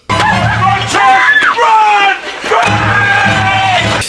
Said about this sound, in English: All while screaming like a little girl.